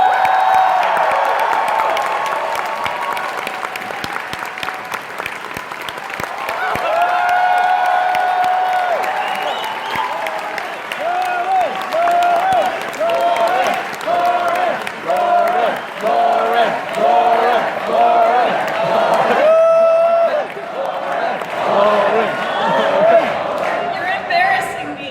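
A large convention audience cheers, whoops and applauds loudly as animator Lauren Faust is introduced on stage, the roar swelling and then breaking into rhythmic waves of clapping and shouts over about twenty-five seconds.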